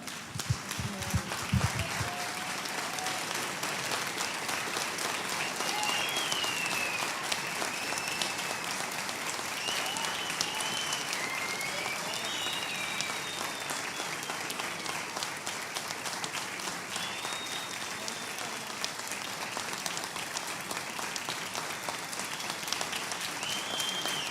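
Church congregation standing to applaud during an evening worship service, a continuous wash of many hands clapping at steady strength throughout, faint distant voices and whistle-like tones drifting above it.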